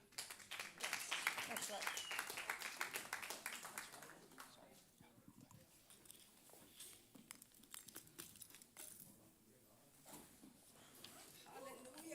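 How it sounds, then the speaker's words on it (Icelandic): Congregational applause at a Christian church service, a dense patter of many hands clapping that swells loud early, eases, then rises again near the end, with faint voices beneath. "Gefið þeim gott klapp."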